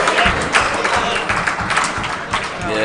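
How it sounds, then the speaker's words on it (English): A crowd at the 2015 St. Louis Open tennis final applauds a shot, with dense, close clapping and some cheering that carries on for a few seconds, mixed with talk. "The crowd giving that one their stamp of approval."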